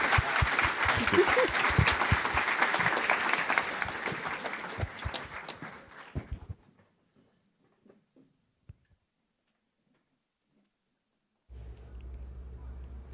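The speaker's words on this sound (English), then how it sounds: "a big round of applause, please, for our fantastic panel" An audience applauds a panel at a media industry event: dense, loud clapping that gradually thins and stops about halfway through, followed by near silence and then a low hum.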